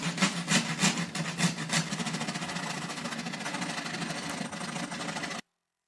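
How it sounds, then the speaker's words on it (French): A scroll saw cuts through a piece of wooden moulding, a fast buzzing rasp with a few louder strokes at the start, then a steady cutting hum that stops abruptly. "trace la forme de la moulure sur l'extrémité et la découpe avec la scie à chantourner"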